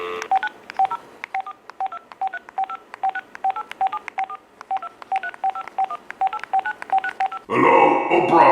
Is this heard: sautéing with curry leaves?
no